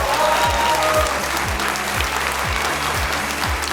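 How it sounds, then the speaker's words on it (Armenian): Audience applause at a talent show gala in Armenia, dense steady clapping filling the hall at an even level, with faint music underneath. "պարգևելու են ամենակարևորը, ամենից պարտավորեցնողը, ծափարությունները"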